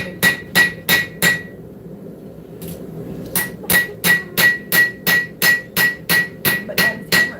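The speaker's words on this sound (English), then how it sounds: "But Dad's hammering." Hammer blows ring out in a forge shop, a quick run of strikes, then a pause with a lone tap, then a long steady train of evenly spaced, loud metallic hits.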